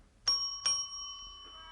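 At the Westover Hotel in an old radio crime drama, a doorbell sounds two quick, clear dings close up, the second tone ringing out and fading slowly into a quiet room.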